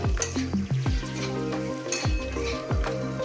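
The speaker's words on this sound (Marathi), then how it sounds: "आपण हे बटाट्याचे स्लाइस करून घेतलेले आहे बारीक बारीक ते आपण आता या मिश्रणामध्ये टाकून घेऊया आणि गॅस थोडासा मोठा करून छान असं हलवून घेऊया" Thin potato slices are stirred in a hot pan with a spice mixture over raised heat for a yellow potato bhaji, sizzling steadily while a spoon scrapes in repeated sweeps, close and fairly loud with no talk.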